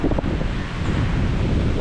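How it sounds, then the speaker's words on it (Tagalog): Strong sea waves and gusting wind on a shore in bad weather, a continuous loud roar of surf and buffeting wind noise on the microphone, with no talk. "malakas na naman yung alon"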